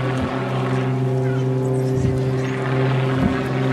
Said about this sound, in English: Big demonstration of the amount of power there hanging on the prop.